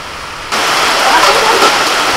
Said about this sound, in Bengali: দেখো আর বলতে বলতে বৃষ্টি এসে গেল মা।